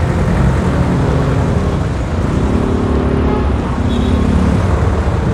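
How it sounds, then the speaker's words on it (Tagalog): Heavy road traffic under an overpass on Nichols, recorded from a Motorstar Easyride 150 FI motorcycle: a loud, steady wash of idling and rolling engines, with no talking. "Dito traffic na sa Nichols mga katropa, sa ilalim. Sobrang traffic na."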